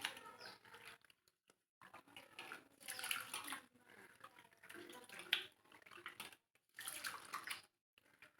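Rice is washed by hand in water in a home kitchen, with soft splashing, swishing and pouring that come in bursts broken by short pauses.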